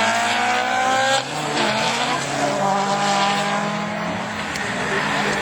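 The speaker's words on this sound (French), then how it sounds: "Alors, la descente d'Erfan Girardot. Avec cette Honda très spéciale." A Honda rallycross race car, Division 4, on a descent at a French championship event in Lavaré, its engine loud and close as the revs climb and fall in a sustained roar, with tire noise mixed in and no one speaking.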